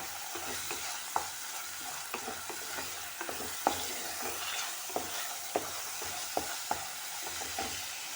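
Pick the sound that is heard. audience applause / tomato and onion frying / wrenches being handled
tomato and onion frying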